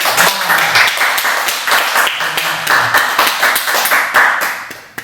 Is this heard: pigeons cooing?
no